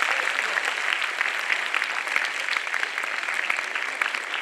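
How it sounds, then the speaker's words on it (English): A room of people applauds students after a panel discussion, a brisk, even patter of many clapping hands lasting several seconds. "Give them a big round of applause for them."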